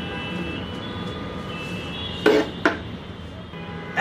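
A metal spoon scrapes the seeds out of a halved snake gourd, two short, sharp scraping strokes rising over a steady low background hum, with no voices.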